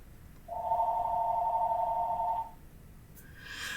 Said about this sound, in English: Here's my phone going off.